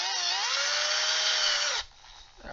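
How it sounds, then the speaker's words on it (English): A power drill bores out the middle hole for a DIY firewall powerwall build, whining steadily and loudly at high speed for almost two seconds before it stops and faint handling noise follows. "We're gonna start drilling out the middle hole for this thing."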